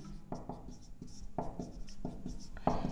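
Pen writing out a maths equation on paper, short scratchy strokes in irregular bursts close up, under someone talking.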